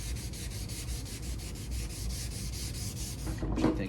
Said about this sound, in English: You can literally watch it all disappear as you're sanding it, all the oxidation.